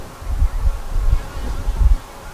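Honeybees buzzing on a frame from a nuc hive, a low, close, pulsing hum that swells and fades repeatedly, with no talk.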